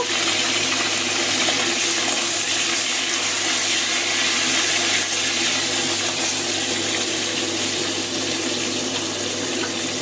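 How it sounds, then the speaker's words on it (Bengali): Flat beans and potato frying in oil in a wok, a steady broadband hiss and crackle that stays loud and even throughout with no voices. "শিম আর আলু এটা কিন্তু একটু ভেজে নেবো"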